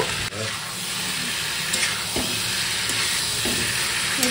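Boiled chickpeas stirred into a pan of cooking masala, with a steady sizzling hiss and occasional scraping stir sounds, close and fairly loud with no talking.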